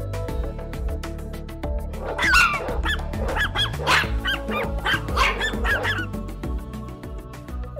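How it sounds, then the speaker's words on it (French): A small dog in a Barbie doll play scene barks repeatedly in quick, bright yaps over steady background music. "Bon chien!"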